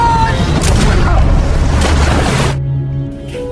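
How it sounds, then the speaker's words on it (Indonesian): A bomb blast from the action film The Expendables 3, a loud, dense rumbling explosion roaring for about two and a half seconds before cutting off abruptly into quieter ringing ambience. "tepat saat bom mulai meledak"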